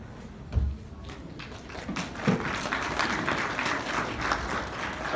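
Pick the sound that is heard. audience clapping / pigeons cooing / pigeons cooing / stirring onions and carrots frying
audience clapping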